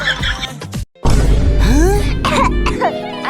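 A girl coughs in a comedy skit, a few harsh, close barks broken by a brief pause, mixed with voices and background music.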